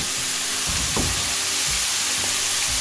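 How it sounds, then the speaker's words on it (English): Battered calamari fries in hot oil with a steady, dense sizzle and a few louder crackling bursts as pieces drop in and separate. "Just make sure you separate the calamari as you add it to the oil."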